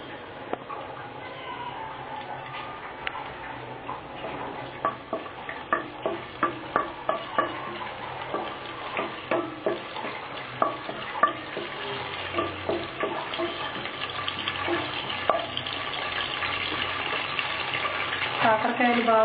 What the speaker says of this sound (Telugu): నూనె వేడయ్యాక ఇప్పుడు దీంట్లో ఆవాలు వేసుకోవాలి.